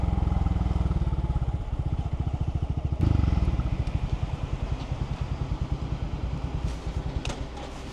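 Scooter or motorcycle engine idling at a fuel station in Madeira, a close, steady low putter with even rhythmic pulses and a brief bump partway through, no talking over it.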